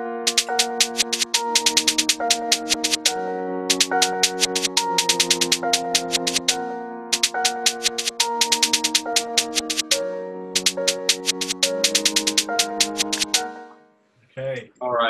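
A trap-style drum pattern with rapid hi-hat rolls plays alongside a melodic piano line, loud and rhythmic, stopping in short gaps between phrases.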